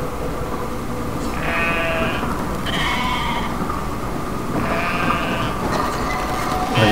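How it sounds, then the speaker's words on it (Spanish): Sheep in the video game Brothers: A Tale of Two Sons bleat repeatedly, with three or four drawn-out cries over a constant background drone. "¡Esa oveja! ¡Corre, ovejita, corre!"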